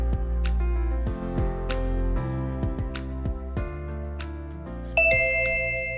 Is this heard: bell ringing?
yes